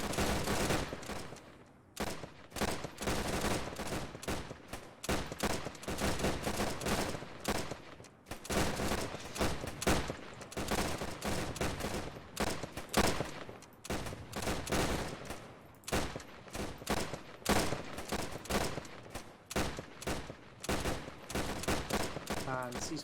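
Aimed rifle fire in the video game ARMA 3 during a live fire exercise: a steady stream of single shots crackles continuously at a fairly low level, with occasional voices.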